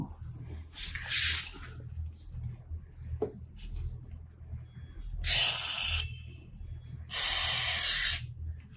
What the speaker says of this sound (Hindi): बाकी अभी यहाँ पे भी स्प्रे थोड़ा सा कर देते हैं